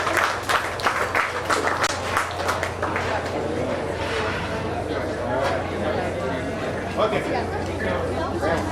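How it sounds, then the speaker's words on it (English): Audience applause ringing out at a county fair swine show, steady clapping mixed with crowd chatter and an announcer's voice over it. "Let's give her a big round of applause."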